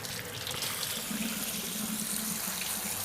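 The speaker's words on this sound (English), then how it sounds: "I'm just going to run cold water on it, and that'll help to cool it really quickly." Cold tap water runs steadily over cooked somen noodles and crushed ice, a continuous close splashing hiss from a faucet into a sink with no pauses.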